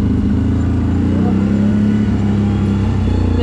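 A CFMoto 1000 ATV engine-brakes while descending a hill, making a loud, steady low droning hum with a constant pitch that holds throughout the short stretch, close to the machine and without speech.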